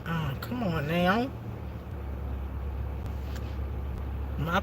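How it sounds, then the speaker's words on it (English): A car engine runs at a rough, low idle inside the cabin on a cold, extremely windy day in Wilmington, Delaware, a steady rumble that sounds close to stalling, with a voice speaking over the first second. "Y'all hear my car? Almost sound like you wanted to cut off."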